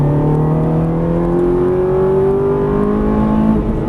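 A Ferrari 430 engine climbs steadily in pitch as it accelerates on a race track, loud and close from inside the car, the revving tone rising smoothly for several seconds before easing off at the end.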